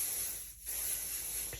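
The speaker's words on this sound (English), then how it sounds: "I have some pixie spray here, and I am just going to spray this quickly off camera." A can of pixie spray hisses onto a stencil in a steady, close, airy stream, broken by one short pause in the middle.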